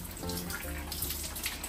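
Shower water running steadily while a dog is bathed indoors, a continuous close hiss of spray with faint splashing.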